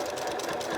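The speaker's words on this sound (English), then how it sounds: "that's where I'm again sewing the serge seam down to the front part of the jean that I trimmed away" A sewing machine stitches down a serged side seam on a pair of jeans, a steady close whir of continuous mechanical buzzing over a short moment with no voices.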